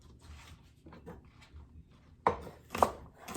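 A knife dices vegetables on a cutting board for loaded baked potato soup, with soft taps early on and two sharper, louder chops near the end.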